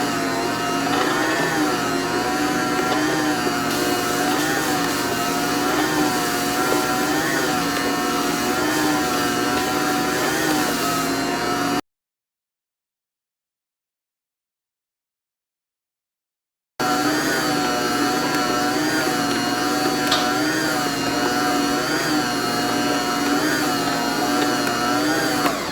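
A bread machine kneads gooey pocket-bread dough, giving a steady loud motor whir with a rhythmic churning wobble, interrupted by a few seconds of silence before resuming unchanged.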